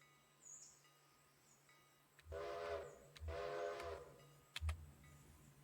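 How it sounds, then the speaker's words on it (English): Train whistle in the Railroader railroad simulation game sounds in two long, steady harmonic blasts over a low rumble, ending with a short sharp clank. "That means one long whistle,"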